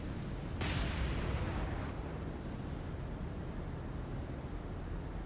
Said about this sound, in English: We just got a secondary explosion on the